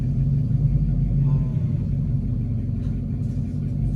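Idling rumble from a 2006 Dodge Charger R/T with a Cherry Bomb exhaust, upgraded spark plugs, racing fuel pump and cold air intake, heard as a steady low drone throughout with faint voices in the background.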